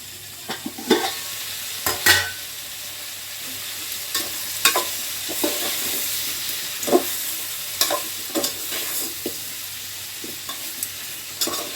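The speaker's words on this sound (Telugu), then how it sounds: "సొరకాయ ముక్కలు అయితే మంచిగా నూనెలో మగ్గినాక పులుసు వేయాలండి" Bottle gourd pieces sizzle and fry in oil in a pan, with steady crackling broken by repeated stirring scrapes and clatters throughout, close and moderately loud with no talking.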